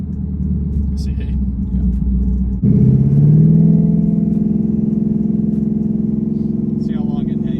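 Twin-turbo Ford Mustang engine idling with a low rumble, then revving up sharply and holding steady at around 3,000 RPM in a loud, sustained drone; a voice speaks briefly over it.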